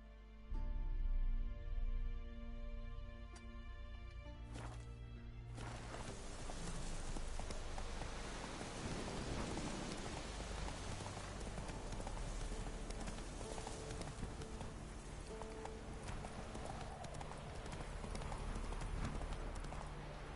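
Horse hooves clip-clop in a steady, close rhythm in the video game The Witcher 3, starting after a brief burst and continuing unbroken under light ambient noise.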